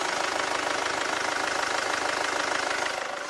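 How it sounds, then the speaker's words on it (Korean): A diesel SUV engine idles with a steady, dense rumble and a fine knocking texture, loud and close as if heard with the hood open, easing slightly toward the end. "엔진 소음 먼저 들려드리면은"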